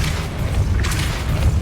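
In Hogwarts Legacy, a Depulso spell raises a stone platform with a loud, sustained low rumbling boom that fills the whole moment, heavy and close, with grinding texture on top.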